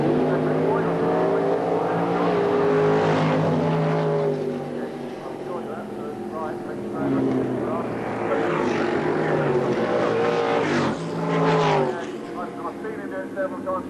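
Loud Supergas drag racing cars roar and rev up and down at Santa Pod Raceway, with a commentator talking over the engine noise throughout.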